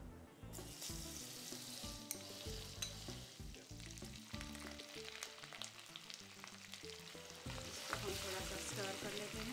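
Ginger garlic paste is frying and being stirred in hot oil that already holds cloves and cinnamon, for an Indian dish. It sizzles and crackles steadily and close up, with irregular scraping stir noises throughout.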